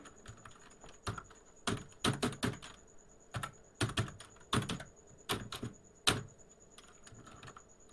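A password is typed on a computer keyboard: close, crisp keystrokes come in short irregular bursts with brief pauses, and a faint steady whine sits beneath.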